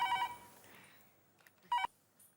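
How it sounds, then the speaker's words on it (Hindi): A short electronic phone ring, two brief tonal bursts separated by a pause, fairly faint against a quiet room. "एक मिनट, फोन आया।"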